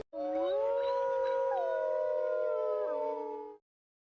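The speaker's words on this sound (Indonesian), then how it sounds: "Ellis dan istrinya sering terlihat bermain bersama para serigala dan tak jarang ikut melolong layaknya binatang buas itu." Wolves howling together in long, sustained, sliding tones that rise and fall, several voices overlapping loudly and close, then ending abruptly after a few seconds.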